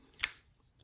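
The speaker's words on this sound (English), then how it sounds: "It flicks open just fine" A Buck LUX 816 folding knife is flicked open, giving one crisp, sharp metallic click up close. Near silence follows.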